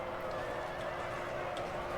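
Horses neigh and whinny amid hoofbeats and general battle noise in a Napoleon: Total War re-creation of the Battle of Borodino, a dense continuous din with no clear pauses.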